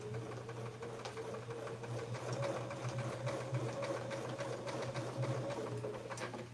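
A sewing machine stitches along a quilting template path in a continuous, rapid mechanical chatter with a low steady hum, fairly quiet and without any talk.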